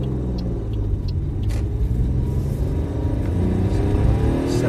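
A classic Mini car accelerates hard, its engine droning with a low rising rumble heard from inside the cabin, steady and loud throughout with no talking.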